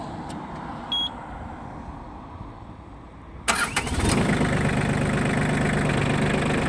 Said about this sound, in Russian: И можно запускать двигатель.